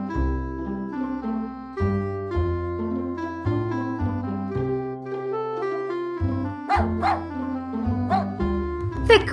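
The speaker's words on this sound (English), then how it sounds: "The Greyhound puppy." Greyhound puppy in a children's learning cartoon, a few short yips and barks over cheerful background music with sustained notes.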